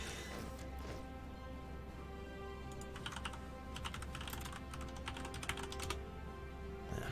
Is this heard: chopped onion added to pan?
no